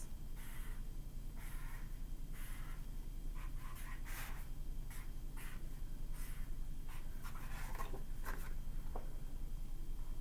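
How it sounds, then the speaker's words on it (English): A word is written by hand, pen or pencil scratching across paper in close, repeated short strokes over a steady low background hum. "I'll go ahead and write that word for you to copy as your next header for your sentence"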